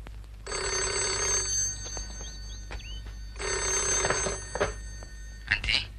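An old telephone bell rings in two bursts separated by a short pause, in a 1979 Indonesian film scene, with faint voices nearby.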